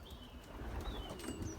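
Young racing pigeons flying around a loft, with soft cooing and faint chirps over a steady, windy outdoor background; no clear wingbeats stand out.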